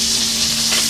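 Oyster steaks sizzle in a frying pan, a loud, close, continuous crackling hiss with a faint steady hum underneath.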